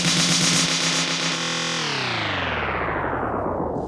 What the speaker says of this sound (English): I have this drum fill here that I use as an effect. You'll get that reverb tail